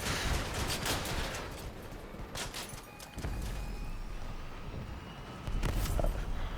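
Rocket fire in the vehicle combat game Crossout: a continuous loud barrage of launches and blasts with several sharp bursts and a heavy rumble throughout, swelling again near the end.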